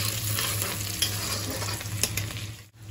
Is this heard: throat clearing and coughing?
no